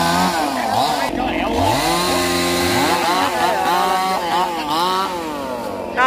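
A chainsaw cuts into a Sao tree trunk, engine revving up and down steadily and loud throughout, with voices talking over it.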